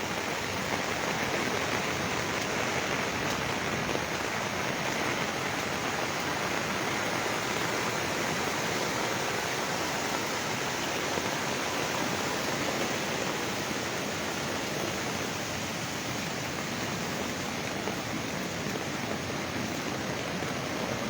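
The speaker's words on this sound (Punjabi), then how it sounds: "ਲਗਾਤਾਰ ਪੈ ਰਿਹਾ ਭਾਰੀ ਮੀਂਹ" A dense, unbroken roar of heavy monsoon rain pouring down continuously in hilly terrain, with no voices or other sounds breaking through.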